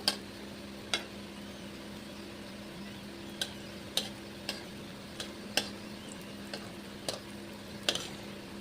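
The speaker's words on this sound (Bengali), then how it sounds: "আমার আলু পেঁয়াজ কাঁচা লঙ্কা ভাজা ভাজা কিন্তু হয়ে গেছে" Potato, onion and green chilli frying in a pan give a steady low sizzle, with sharp utensil taps against the pan every second or so, and no voices.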